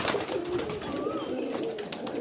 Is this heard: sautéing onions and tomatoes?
no